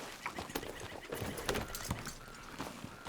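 Horse hooves clip-clopping in Red Dead Redemption 2 as riders travel, a steady, fairly quiet rhythm of hoofbeats with light background ambience and no talk.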